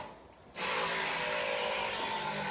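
A power drill bores holes into wood during a tractor trailer repair, starting abruptly after a quiet moment and then running as a steady, loud, continuous whir with no talk.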